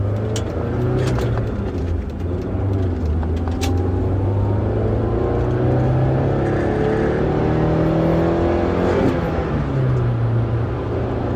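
A car accelerates up to speed with its engine droning loud and close, the pitch climbing steadily through a gear and then dropping briefly before rising again, with no talk over it.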